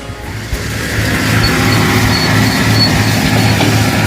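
Tractor pulling a wheel rake passes nearby while windrowing grass clippings, a steady rumbling engine drone that swells in the first second and then holds loud and even, with no talk.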